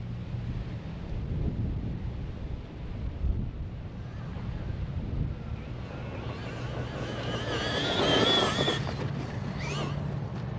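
Traxxas Rustler 2WD VX3 RC car on a 3S battery at full throttle, its motor whine building and rising to a high, loud peak near the end over steady wind and rumble.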